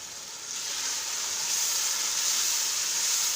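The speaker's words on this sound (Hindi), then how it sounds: "इसको फ्राई करते हैं।" Boiled chickpeas fry in a hot pan, giving a steady, close hiss and sizzle that rises slightly and then holds, with no talking.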